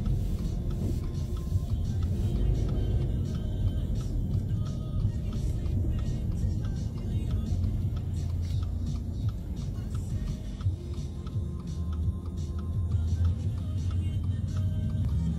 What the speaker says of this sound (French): montre un peu la circulation de Tokyo.